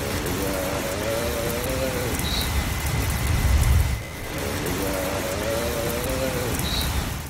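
Steady rain falls outside a garage, a continuous dense hiss of drops on surfaces heard from inside, with a faint low rumble partway through.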